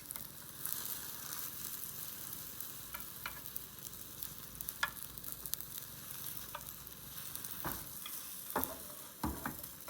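Egg mixture for a Japanese rolled omelette frying in a greased pan, a steady soft sizzle close by, punctuated by occasional scrapes and taps of a utensil as it is spread and rolled.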